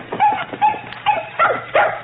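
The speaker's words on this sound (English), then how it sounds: "It's a puppy. A little white puppy." A little white puppy whimpers and yips close up, five or so short high-pitched cries in quick succession with no talking.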